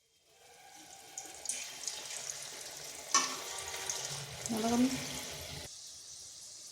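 Aloo bhujiya dough frying in hot oil in a kadai, a steady crackling sizzle that swells and fades with a few brighter bursts, fairly close and continuous.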